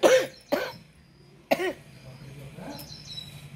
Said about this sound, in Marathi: थोडासा खोकला पण येतोय